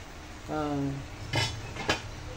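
Metal utensil clanking and scraping in a cooking pan while garlic, onion and meat are sautéed, a few distinct clinks and scrapes over a low background hum, without speech.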